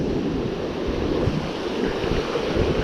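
Ocean surf breaks on a Virginia Beach shore during spring fishing, a steady rushing wash of waves mixed with gusty wind buffeting the microphone, loud and continuous with no talk.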